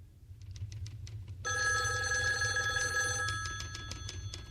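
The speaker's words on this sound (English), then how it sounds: "Do you want to take the phone on 57, Joe?" An old-style telephone bell rings in a sustained trill over a low background hum, with a few faint taps before and after the ring.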